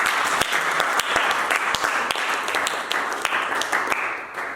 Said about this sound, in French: Alléluia. Acclame, acclame.